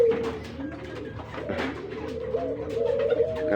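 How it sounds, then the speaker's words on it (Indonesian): A sick pigeon gives low, raspy cooing and breathy wheezing sounds close by, with a few short sharp bursts that could be sneezes, in a quiet setting. "Nah ini dia ngorok terus bersin-bersinnya."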